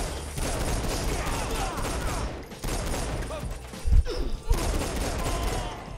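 Rapid gunfire from the video game Saints Row 4 rattles in sustained loud bursts with brief gaps, a heavier bang near the middle, and game sounds layered underneath.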